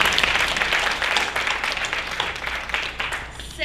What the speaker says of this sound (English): Can you please have a round of applause for her?